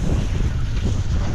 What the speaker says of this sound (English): it's just windy as hell